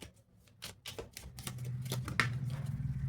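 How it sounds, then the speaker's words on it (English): A deck of tarot cards being shuffled up close, a rapid run of crisp papery clicks and flutters that grows steadily busier and louder over a few seconds. "I want to shuffle this again because I want just one card."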